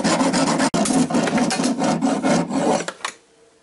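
A hand file rasps back and forth on a metal part of a UAZ vehicle, fast rhythmic scraping strokes that are loud and close, stopping abruptly after about three seconds.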